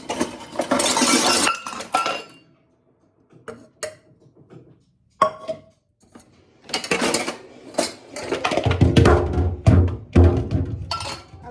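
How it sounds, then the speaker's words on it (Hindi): Freshly washed kitchen utensils, pots, plates and cutlery tumble and clatter in bursts of metallic clinks and clanks, then scattered single knocks, then another loud, jumbled crash of dishes close by. "अभी बर्तन धोए थे, गिर गए"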